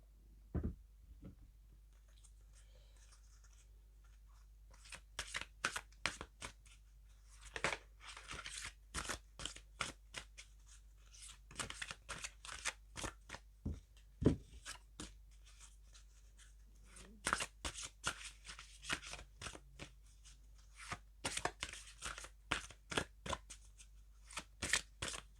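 Small colour cards being shuffled close up, a run of quick, crisp riffling and flicking bursts broken by short pauses, fairly quiet and with no talk over it.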